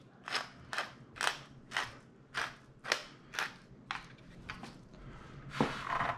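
Coarse black pepper is ground in a hand mill while broiler toast is being made, giving about eight sharp, evenly spaced crunching twists close by, followed by a few softer, looser grinds, with no talking.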